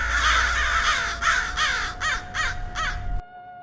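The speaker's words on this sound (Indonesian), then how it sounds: "seketika di teras rumah bertebaran burung-burung gagak hitam dalam jumlah yang cukup banyak" A flock of black crows caws in a series of harsh, rhythmic calls, loud and close, several birds overlapping before the sound cuts off abruptly.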